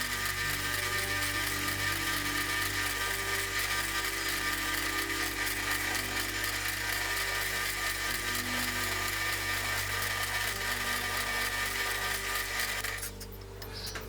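A drill press bores half-inch holes in plywood with a steady, loud whine and grinding cut that runs for over twelve seconds before abruptly dropping off as the bit stops.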